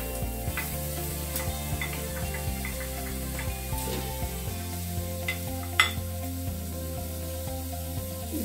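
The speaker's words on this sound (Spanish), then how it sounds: "Entonces vamos a colocar aquí nuestra costillita y el pollo. Y colocaremos la cebolla picada y el ajo." Pork ribs, chicken, chopped onion and garlic fry in hot oil for a sancocho costeño, giving a close, continuous soft sizzle with occasional light clinks from stirring and no speech.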